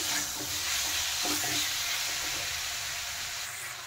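Potatoes and tomatoes sautéing in a pan, a steady soft sizzle and hiss with a few faint stirring scrapes, close by and without talk.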